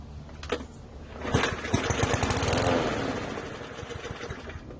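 A PowerSmart lawn mower with a suspected fuel delivery fault sputters and fires up, its small engine rattling loudly and unevenly up close before settling into a rough steady run.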